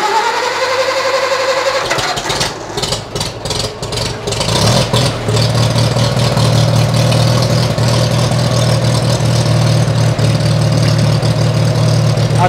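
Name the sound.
engine cold start and idling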